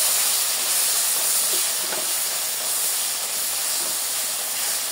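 Chicken sautéing with mixed roast masala for a wedding-style chicken roast, a dense, even, close hiss of frying that holds steady throughout, with no talking.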